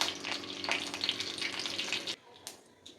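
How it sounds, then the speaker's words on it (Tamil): Mustard seeds splutter and crackle in hot oil in a kadai, a dense, steady sizzle of small pops lasting about two seconds before cutting off abruptly, leaving only a few faint scattered crackles. "இதில் கொஞ்சம் கடுகு போட்டுக்கலாம். கடுகு நல்லா பொரியட்டும்."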